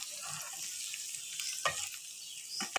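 Chicken potato pieces frying in a pan, a faint, steady hiss of sizzling oil with a couple of brief clatters from stirring.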